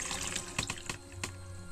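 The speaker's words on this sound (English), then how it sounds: "Just refill the water bottle." A water bottle is refilled from a tap, with a soft, continuous rush of running water and a few light knocks and drips, fairly quiet and alone.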